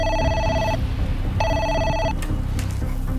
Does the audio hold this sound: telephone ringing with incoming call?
yes